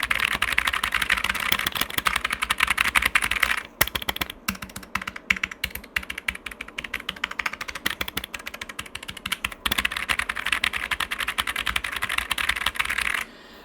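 Fast, clicky typing on an Epomaker Tide 65 mechanical keyboard with blue switches, close up, in continuous bursts with a couple of brief pauses and no voices.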